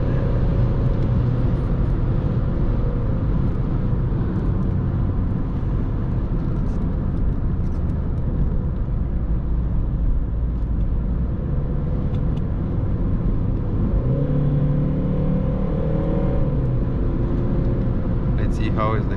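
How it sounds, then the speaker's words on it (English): A VW Polo V 1.6 TDI 90 HP with 7-speed DSG pulling at full throttle in fifth gear, a steady low engine drone and road rumble from inside the cabin, with a brief tonal shift late on. "let me see what happened with fifth gear, full throttle here"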